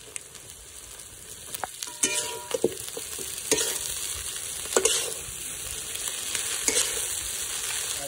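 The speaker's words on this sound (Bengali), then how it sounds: "এবারে চাউমিনগুলো দিয়ে দেবো।" Chowmein noodles tossed and stir-fried in a hot pan, a steady sizzle with scattered clatters and scrapes of the utensil against the metal, close and moderately loud, no talking.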